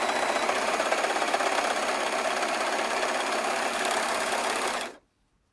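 Overlocker sewing machine running a line of stitches, a steady dense mechanical whir at close range that holds evenly for about five seconds and then stops abruptly, with no talking.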